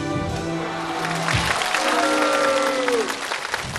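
Applause from a small studio audience during a Chinese comedy show, a steady patter of clapping that carries on for several seconds beneath voices and a descending tonal sound effect.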